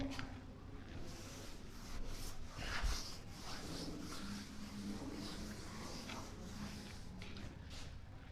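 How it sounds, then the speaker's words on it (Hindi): Writing is rubbed off a board during a classroom maths lesson, making a faint, steady scratchy rubbing that continues for several seconds. "तो इसे मैं रब कर रहा हूं"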